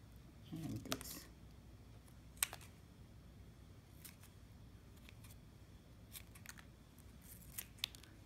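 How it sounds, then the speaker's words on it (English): Scissors snip leaves off a plant, a few sharp, close clicks and cuts scattered over a quiet background with faint rustling, very soft overall. "and then trim all the leaves also."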